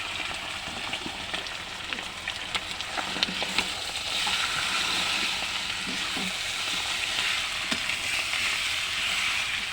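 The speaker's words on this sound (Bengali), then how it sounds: "তেল গরম হয়ে গেছে বন্ধুরা, এবার মাংসটা দিয়ে দেবো।" Marinated chicken goes into hot oil for a chicken and potato curry, setting off a steady, close hiss of frying with scattered pops and crackles that continue evenly throughout.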